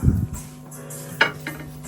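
Kitchen dishes clink and knock as they are handled, with a clatter at the start and a few sharp taps later, close and fairly quiet in an indoor room.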